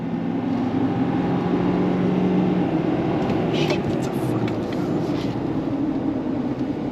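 A 2024 Shelby F-250 Super Baja, a 7,000-pound full-size performance truck, accelerates on throttle along a road, with a loud, steady engine drone and a faint voice underneath.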